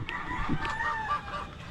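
Chickens cluck and call nearby in a continuous, busy chorus over steady background noise.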